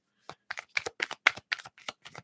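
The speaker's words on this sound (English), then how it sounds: "Just shuffle these up, get the energy going here one more time." Tarot cards are shuffled in about nine quick, crisp riffling bursts, close and clear, with no talking.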